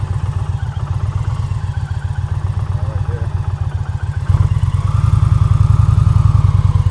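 A motorcycle engine chugs steadily at low speed during slow-speed riding practice in New Jersey, its loud, close throb rising and firming as the clutch is eased into the friction zone.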